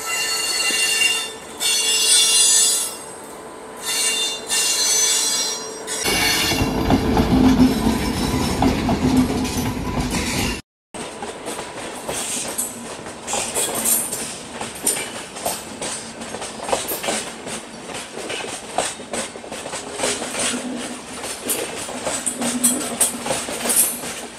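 Express train overtaking a stopped train, heard from the halted coach: a steady roar of passing coaches with wheel squeal and clickety-clack, continuing loud and unbroken after a brief cut.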